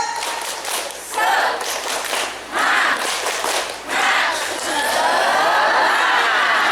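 Schoolchildren at an Indonesian Muhammadiyah elementary school anniversary gathering perform a rhythmic group clapping chant in bursts, loud and close, with chuckles and crowd voices between the claps.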